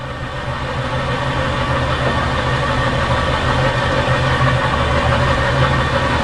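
A spin rinse dryer motor runs steadily at roughly 600 to 800 RPM, a continuous mechanical whir and hum that holds an even level throughout with no talking.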